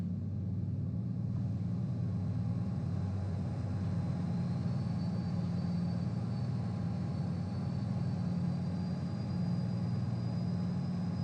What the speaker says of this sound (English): Hear that turbo whine.